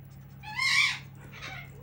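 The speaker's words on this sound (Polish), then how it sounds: "Oszalała papuga." A parrot squawks indoors, one loud rising screech followed by a softer second call, close and alone.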